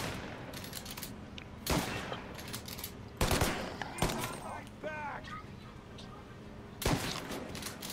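Gunfire in the video game Mafia Definitive Edition: several sharp, loud bursts of shots spaced across the moment over a low game ambience, with a voice speaking in between.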